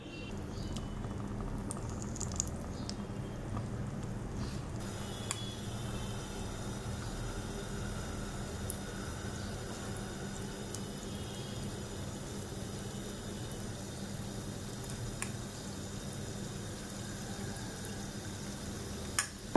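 Unni appam batter frying in hot oil in an appakara over low to medium heat, giving a steady, continuous sizzle and bubbling that holds evenly throughout with no voices.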